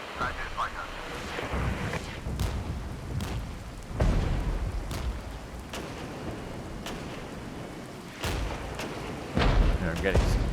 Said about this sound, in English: I do have an artillery strike.